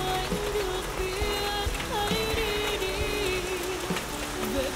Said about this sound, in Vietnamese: mưa rồi đó